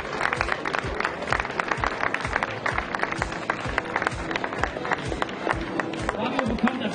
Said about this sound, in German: Fabio bekommt Applaus, obwohl er noch gar nicht da ist